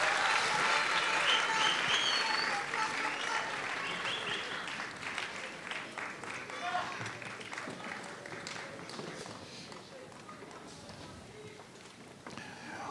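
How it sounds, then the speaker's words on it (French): An audience at a Kimbanguist brass band concert in Brazzaville applauds, a dense sustained clapping that slowly fades over several seconds with scattered cheers beneath. "Sous vos applaudissements encore, mesdames et messieurs, pour les aider à sortir avec vigueur."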